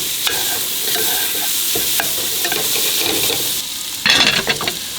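Sabat banana, white onion and beef fry in butter with a loud, close sizzle, broken by stirring scrapes and a brief louder burst of spattering near the end.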